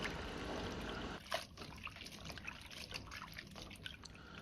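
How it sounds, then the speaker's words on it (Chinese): Tea tree mushrooms are rinsed in a bowl of clean water, with soft trickling and sloshing that starts louder, then turns into faint splashes and drips, close by and quiet. "再倒上多一些的清水，清洗乾淨，一定要多清洗2遍"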